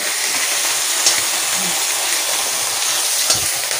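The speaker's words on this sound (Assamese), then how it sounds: "সৰু সৰু মাছখিনি ভাজি আছে" Small fish fry in a pan with a steady, dense sizzle and crackle, loud and close, plus a couple of faint knocks; no one speaks.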